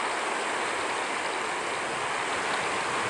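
A river stream flows in a continuous, loud, even rush of water, close by and unbroken throughout.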